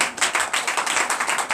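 Congregation clapping in a church during a Sunday worship service, dense steady applause of many hands filling the hall, fairly close and continuous without talk over it.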